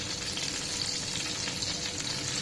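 Stuffed brinjals sizzle steadily in a pan, a dense, even hiss of frying oil heard up close, constant throughout and free of speech.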